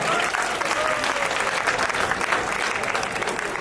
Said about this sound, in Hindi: जोरदार तालियों के साथ स्वागत होना चाहिए इनका